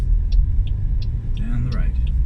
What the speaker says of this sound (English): Got 2 or 3 cars coming from the right, one on the left hand side.